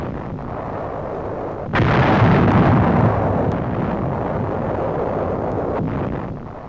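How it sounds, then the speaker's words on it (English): A sudden heavy blast of German counter-battery artillery fire booms across a WWII coastal battlefield near Westkapelle, followed by a long rumbling roar that slowly fades. "Nazi counter-battery fire."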